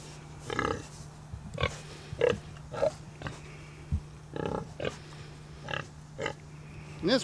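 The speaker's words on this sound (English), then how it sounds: "this is what used to be the family pigs" Pigs on a historic farm at Landmark Park grunting and snorting in short, irregular bursts roughly every half second, close by over a steady low hum, with no talking.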